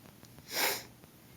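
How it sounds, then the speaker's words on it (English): A single short nasal sniff, a breathy rush of air that rises and fades in about half a second, close to the microphone. "Pardon my sniffles."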